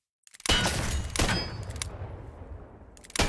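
A heavy-recoil gun from the Minecraft TaCZ mod fires a few loud booming shots. Each shot has a long reverberating tail, with the last shot cut off at the end.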